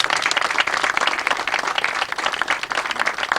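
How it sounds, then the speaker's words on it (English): An audience at Champlain Plastics applauds for Governor George Pataki, a dense, sustained round of many hands clapping, fairly loud and even throughout, with no speech over it. "he deserves another round of applause for that"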